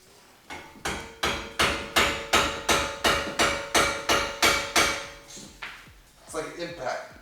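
An impact wrench loosening BMW brake caliper parts during a brake service, delivering a run of about twelve sharp, evenly spaced hammering bursts at close range, then a few softer clanks as it stops.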